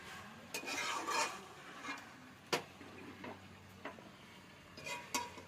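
Onion, capsicum and potato stirred in a pan for a chicken curry, giving scattered scraping and clinking spoon strokes at irregular intervals, with a faint sizzle underneath and no talking.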